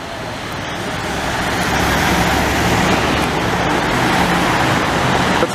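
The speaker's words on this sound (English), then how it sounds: "There's so much goddamn traffic." Busy street traffic in Montreal, a steady, loud roar of passing cars and heavier vehicles swelling and holding close by, with no talk over it.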